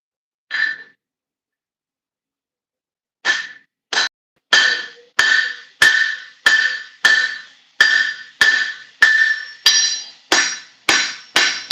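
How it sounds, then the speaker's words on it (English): A blacksmith strikes metal with the round head of a hammer, knocking a cheek down: one lone ringing blow, a pause, then a fast steady run of about a dozen sharp, bright, metallic hits, close and loud, with no talking. "So here's I'm using the round head of the hammer."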